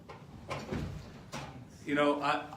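A door in a home thuds open or shut twice in quick succession, soft and close, and a voice starts speaking right after.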